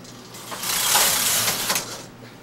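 A Studio electronic knitting machine carriage sweeps across a row in one smooth, swelling mechanical whoosh lasting about two seconds, with no talk.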